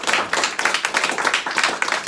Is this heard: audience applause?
yes